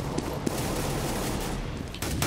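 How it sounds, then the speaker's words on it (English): Gunfire during a professional CS:GO match at an ESEA LAN tournament, heard as dense, continuous game audio with rapid shots and sharp transients running through the whole short stretch. "He goes under some gunfire there."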